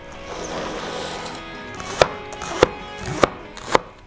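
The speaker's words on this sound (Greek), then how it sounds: "Ξεκινάμε ψιλοκόβοντας τα πράσα." Leeks are chopped finely with a knife on a board. After a quiet start come four crisp, separate knife strikes at an even, unhurried pace, close up.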